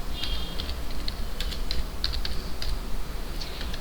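Rapid clicking keystrokes on a computer keyboard, close and steady with irregular bursts of taps throughout, no speech.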